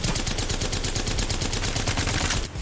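Automatic gun in the video game Apex Legends firing a long, rapid, unbroken burst, loud and close, before cutting off abruptly at the end.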